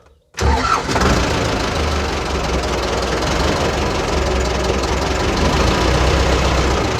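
A tractor engine cranks and catches after a brief silence, then settles into a loud, steady, close idle with a rough low-pitched knock that runs to the end.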